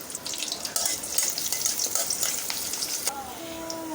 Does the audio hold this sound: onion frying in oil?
yes